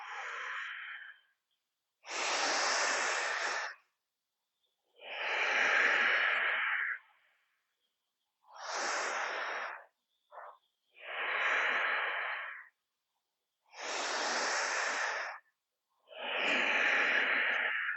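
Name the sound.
instructor breathing in and out during yoga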